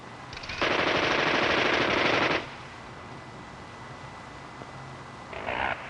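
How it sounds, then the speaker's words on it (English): Sustained burst of rapid automatic cannon fire, from an M61 20 mm six-barrel or a prototype 30 mm three-barrel gun in a helicopter turret test, roaring loud for about two seconds, then a quiet pause and a brief second burst beginning near the end. "will accept either the 6-barrel M61 20 millimeter cannon or a prototype 3-barrel 30 millimeter cannon"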